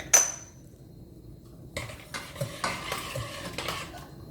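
Vegan lasagne sauce stirred in a pot, a spoon clacking and scraping against the sides in a run of close, irregular knocks after a short quiet stretch, opening with a brief sharp tick.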